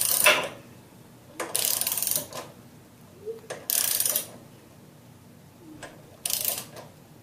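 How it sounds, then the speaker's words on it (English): An 11/16 inch socket on a ratchet turns the flywheel of a Kawasaki FH500V engine clockwise. Three close, short bursts of ratcheting clicks are separated by quiet pauses, with a few faint knocks between them. "take your 11/16 inch socket and turn your flywheel clockwise until your valves go in and out and stop"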